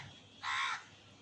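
One clear, moderately distant crow caw rings out outdoors as a storm begins, and a second caw starts just at the end.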